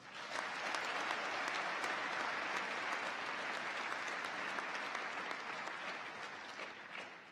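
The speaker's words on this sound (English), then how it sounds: "Please join me in giving them a round of applause." Sustained applause from a large audience at a college commencement ceremony for honored faculty members, a thick, even roar of clapping across the hall that holds steady and only slightly eases toward the end, with no voices over it.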